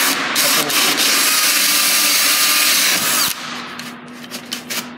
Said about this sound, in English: Attach the hole saw to the power drill, lock it into place